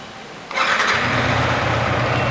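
After a brief quiet moment, a new Yamaha R15M motorcycle engine catches and starts, then settles into a steady, close idle rumble.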